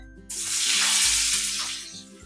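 Butter hits a hot pan that has just fried onions, bursting into a loud, close, steady sizzle that swells and then eases slightly, with soft background music and no talk.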